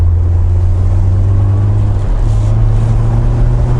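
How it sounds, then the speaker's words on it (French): A loud Mercedes SLK engine roars steadily close by with supercharger whine, its deep drone climbing slightly in pitch partway through as it accelerates. "tu entends le bruit de l'accélération déjà, c'est tentant"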